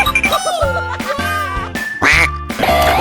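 A cartoon duckling gives a series of loud, close quacks in quick bursts, with bright jingling tones between them and no talking.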